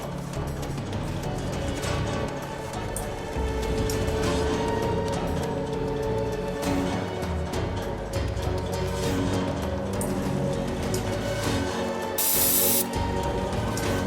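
An airbrush sprays thinned paint onto a Fallout 4 Pip-Boy replica, a continuous close hiss of air and paint that holds steady throughout with a brief louder burst near the end.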